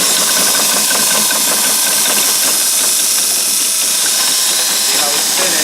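A Raymond forklift motor shudders from a gear problem, producing a loud, continuous mechanical drone with knocking and a harsh hiss that stays constant throughout.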